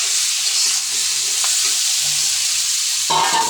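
Potato and bitter gourd frying and being stirred in a pan, a loud close hiss with scraping and clattering stir sounds, a sharper burst near the end.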